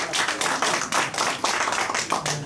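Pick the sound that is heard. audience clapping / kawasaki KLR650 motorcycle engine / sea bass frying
audience clapping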